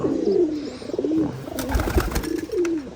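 Low, throaty coos from pigeons weak after illness repeat close by in soft rolling phrases, with a few light rustles in between.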